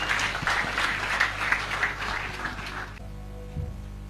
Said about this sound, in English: Clap hands for him